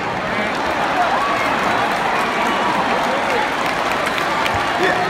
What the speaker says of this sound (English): Like that type of clap is good.